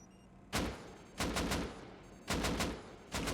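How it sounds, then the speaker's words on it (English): An AK-armed auto turret in the game Rust fitted with a muzzle brake and incendiary ammo, firing four loud bursts of rapid shots, each a tight cluster of three or four cracks with short pauses between. "AK turret."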